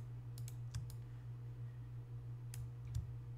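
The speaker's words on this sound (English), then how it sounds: "hold on to the shift on my keyboard and then click them." Sparse keyboard and mouse clicks at a computer, a handful of faint sharp taps over a steady low hum.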